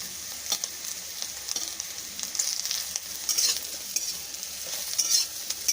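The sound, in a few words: bitter gourd frying in a pan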